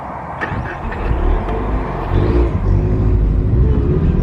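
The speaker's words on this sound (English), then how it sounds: "There's a car coming behind us." A car approaching from behind on the road, its engine a low, steady rumble that swells slightly as it draws nearer, with no talking.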